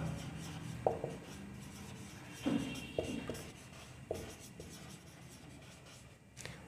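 Pen writing on paper during a maths lesson, faint scratchy strokes with a few sharper taps and pauses, quiet and close, no voice over it.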